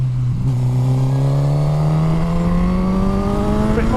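A Suzuki GSX-R1000 K8 motorcycle engine pulls hard while being ridden, a loud, close, continuous growl rising steadily in pitch through the revs, with wind noise and no talk.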